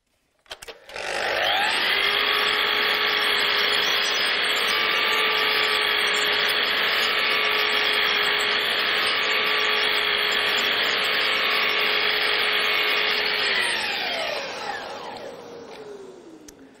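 A Festool Kapex KS 120 radial miter saw spins up, cuts a groove in a steady loud high whine lasting about twelve seconds, then winds down, close and alone without talk.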